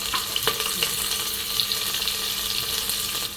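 Chopped onion frying in hot oil with cumin in a pan for khichdi, a steady close hiss and crackle of sizzling that continues without a break and with no voices.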